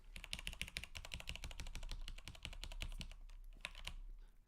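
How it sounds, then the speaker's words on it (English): Steady, rapid typing on a computer keyboard during web app coding, with crisp close key clicks in an even, continuous rhythm that slows slightly near the end. "Sometimes it's just nice just to do the typing, hey?"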